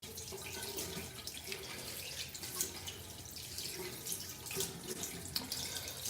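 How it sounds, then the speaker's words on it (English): Tap water runs steadily into a sink while paint is rinsed off fingers, a continuous close splashing stream with small drips and no talking. "Rinse my fingers off."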